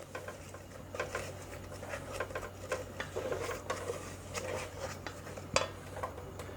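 Pecan pie cheesecake filling with cinnamon is stirred in a pot on the stove, a steady run of soft scraping and tapping strokes against the metal, close and moderately quiet, with no talking.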